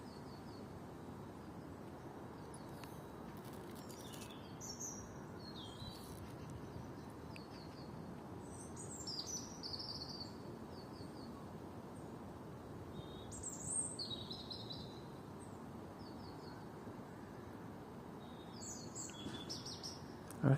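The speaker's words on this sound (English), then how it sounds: "Different kind of birds, different kind of calls, sounds." Several kinds of wild birds call outdoors, with faint, scattered chirps and short whistled notes from a distance over a quiet, steady background hush.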